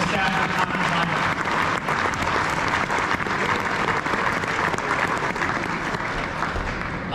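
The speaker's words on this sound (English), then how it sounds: "So how about a round of applause for the staff of Top of the Vita." A banquet audience at a father-son steak fry gives a steady round of applause for the catering staff, dense and even clapping from many hands throughout, with faint murmurs underneath.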